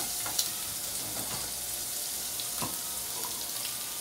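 Chicken pieces fry in a little oil with garlic and onion, giving a steady close crackle and hiss with a few faint utensil taps over it.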